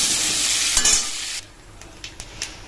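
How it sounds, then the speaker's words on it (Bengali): Brinjal frying in hot oil with salt and turmeric gives a loud, hissing sizzle that cuts off sharply after about a second and a half, then a few faint pops and spatters. "আর একটু লবণ হলুদ দিয়ে বেগুনটাও ভেজে নিচ্ছি"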